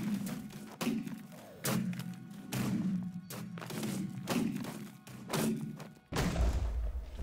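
End crystals being smashed in Minecraft during an Ender Dragon fight, a rapid series of loud thuds and cracking bursts one after another, with a heavier boom near the end.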